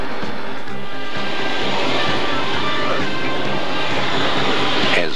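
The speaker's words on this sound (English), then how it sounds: "As Flight 652 from Guam lands in Yap, it blows an unprecedented three tires due to an anti-skid problem." Air Micronesia jet airliner on Guam–Yap Flight 652 landing at Yap with an anti-skid fault, a loud, steady broadband engine roar filling the whole stretch, with a voice speaking over it.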